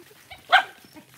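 A single dog bark rings out once, short and fairly close, against a quiet outdoor background with a few faint murmurs.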